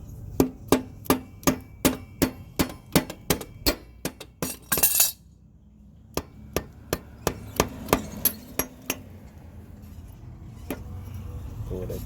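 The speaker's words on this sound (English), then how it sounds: "Got my little rubber hammer" Sharp, evenly spaced rubber mallet taps ring out, about a dozen in quick succession, then a pause and a slower, irregular series of knocks, while changing a Harley-Davidson Road Glide rear tire.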